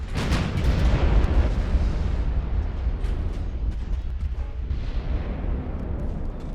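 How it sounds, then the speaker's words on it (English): A warship's ammunition magazine detonates in the naval combat game Ultimate Admiral: Dreadnoughts, a heavy booming blast that rolls on into a long, loud rumbling roar, close and alone without talk. "There we go. Ammo detonation."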